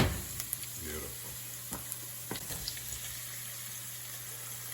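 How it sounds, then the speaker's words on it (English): Dried tomatoes frying in garlic in a pan, a steady close sizzle with occasional stirring clinks and scrapes. "we're going to fry out some dried tomatoes now in that garlic"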